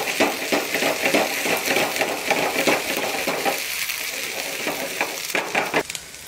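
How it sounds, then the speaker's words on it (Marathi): A spoonful of ginger garlic paste fries in a pan, a steady broadband sizzle broken by scraping, tapping stirs of a spoon against the metal, close and moderately loud throughout. "आता त्याच्यामध्ये 1 चमचा अद्रक लसूणची पेस्ट आपल्याला टाकायची आहे, त्याला देखील फ्राय करून घ्यायचं आहे।"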